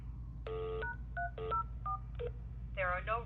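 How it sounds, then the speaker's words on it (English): Pressing keys on a hotel telephone gives a series of short electronic tones and beeps of varying pitch, followed by a brief chirp, close and clear over a low background hum, with speech in the clip. "let's hit the messages button and we might be able to tell what"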